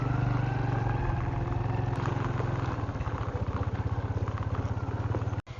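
Motorcycle ridden with a passenger on the road to Ugong Rock in Palawan, its engine loud and close with a steady low drone that turns into a throbbing, pulsing idle-like chug, ending in a sudden clunk.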